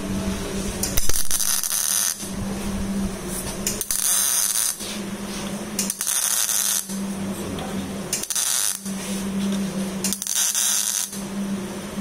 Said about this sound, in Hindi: आप देख सकते हैं ये मशीन कितनी आसानी से वेल्ड कर पाती है